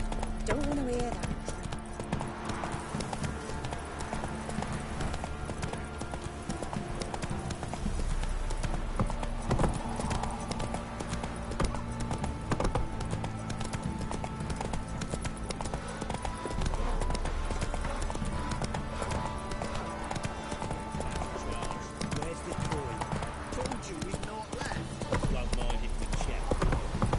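Hooves of Roach, a horse in a PS4 video game, clip-clop steadily and close for the whole stretch, with a brief whinny and game music in the background while a voice talks over it.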